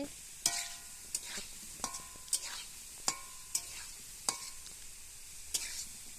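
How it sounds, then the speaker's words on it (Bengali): Potatoes fry in a home kitchen pan with a low, continuous sizzle, broken by sharp clinks and scrapes of stirring at irregular intervals. "দেখো আলুগুলো আমার ভাজা হয়ে আসছে।"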